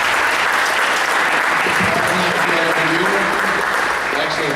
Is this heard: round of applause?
yes